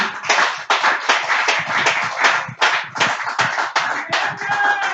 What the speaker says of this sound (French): Est-ce que tu peux applaudir?